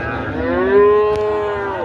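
A single loud, close cow moo rises and sustains for under two seconds at a crowded, muddy cattle market in Chowbaria, with faint crowd background.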